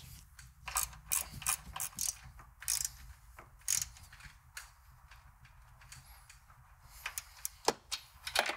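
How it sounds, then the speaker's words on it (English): A hand ratchet with a 15mm socket snugging up the upper strut mount bolts while fitting Bilstein 6112 shocks and springs on a 2019+ Ford Ranger, clicking in repeated close bursts of rapid pawl ticks with short pauses between strokes. "take your 15mm socket and snug up the upper strut mount bolts"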